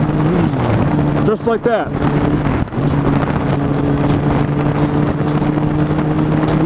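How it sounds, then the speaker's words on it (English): A 250cc sport motorcycle engine hums steadily while shifting gears, with a brief pitch dip and revving swoop partway through under wind noise. A rider speaks briefly. "To shift gears, you pull in clutch, you shift with your left foot, and you let go of the clutch."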